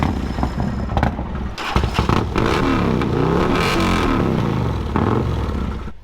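A Harley motorcycle engine cranks and catches after a jump start, stuttering at first before settling into a loud, continuous running roar close by, with clattering bursts near the start.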